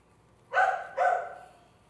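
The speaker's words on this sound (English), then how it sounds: "I'm gonna let the dogs bark at the FedEx guy" Dogs bark at a delivery person arriving, two distinct barks about half a second apart, close and fairly loud, with no talking.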